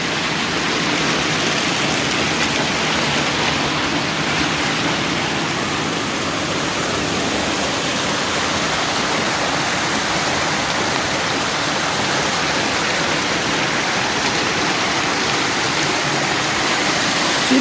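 Champagne River and falls in Saint Ann, Jamaica, a loud, steady rush of cascading water filling the whole stretch, broad and unbroken with no voices.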